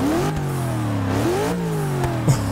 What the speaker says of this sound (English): Nice big V8 with twin turbos.